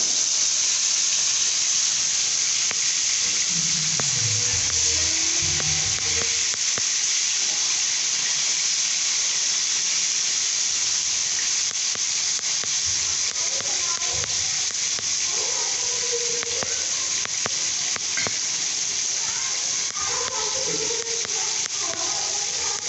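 Fish frying in a pan for Sri Lankan village-style cooking, a steady loud sizzle and hiss that runs unbroken throughout with faint lower clatter underneath.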